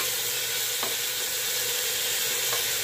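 Onion with garlic and green chili paste fries in a pan for a lentil and bottle gourd curry, a steady close sizzle with two faint clinks of stirring and no voices.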